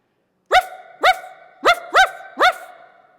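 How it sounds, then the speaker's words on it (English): A dog barks five times nearby, loud sharp barks spaced unevenly with silence in between. "Dog."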